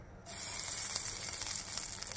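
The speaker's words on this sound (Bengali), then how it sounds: "এরপরে ফোড়ন দিয়ে দিচ্ছি আমি কালো জিরে" Black cumin seeds drop into hot oil left in a kadai after frying fish and burst into a loud, close, steady sizzle that holds without a break.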